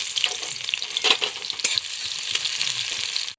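Chopped onion fries in hot oil with dried red chili, cardamom and cinnamon, a loud, close, steady sizzle broken by a few stirring scrapes, with no talking.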